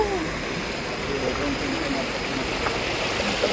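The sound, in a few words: waterfall and flowing stream water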